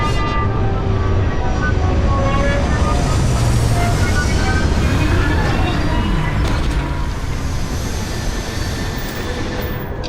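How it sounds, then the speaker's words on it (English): Spaceship landing sequence in the video game Starfield, a loud steady engine roar and rushing wind with descending whines throughout, fading slightly near the end. "Initiate landing sequence."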